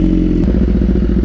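A BMW S1000RR sport motorcycle engine idles loudly and unevenly nearby, a low throbbing rumble with a slightly lumpy rhythm, running rough and in need of tuning.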